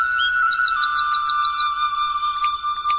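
Bird-chirp ringtone tone: a rapid run of about eight bright descending chirps over a sustained electronic hum, followed by two sharp clicks, clean and close.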